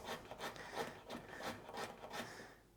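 A knife cuts thin, small unpeeled carrots into medallions on a cutting board, giving soft, rhythmic slicing taps roughly twice a second, quiet and close, with no talking.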